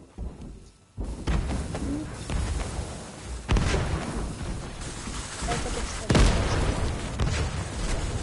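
Bomb explosions in Fortnite battle royale, heavy booms striking at intervals over continuous game noise, with players talking throughout.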